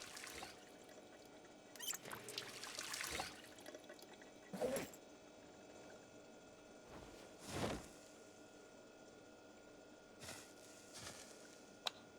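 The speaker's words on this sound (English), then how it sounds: "Is there ambient water dripping noise?" Water dripping in a bathroom in a zombie survival game, with sparse, irregular drips and splashes spaced a few seconds apart over a faint steady ambient hum, close and fairly quiet.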